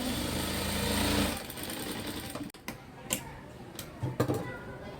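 A sewing machine stitches across fabric tucks on a belt, running in a steady mechanical whir for about a second and a half before stopping. Scattered clicks and handling taps follow.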